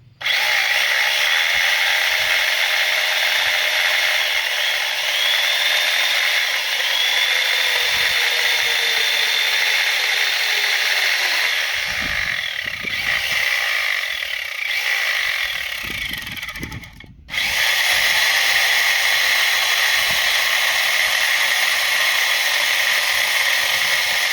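A homemade electric chainsaw, its chain-oil reservoir not yet filled, runs on a test with a steady, loud motor whine that holds for about twenty seconds, cuts out briefly near the end, then resumes.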